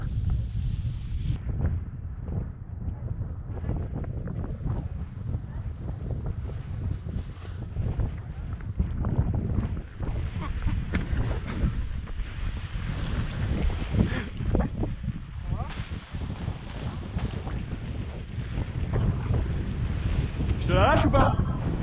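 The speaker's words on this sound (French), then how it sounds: "il devait y avoir quelque chose comme 20 km/h de vent et potentiellement des rafales à 30-35" Strong, gusty wind buffets the microphone at a paragliding launch site, a constant roaring rush with surges from gusts of around 30 km/h, while people talk faintly beneath it.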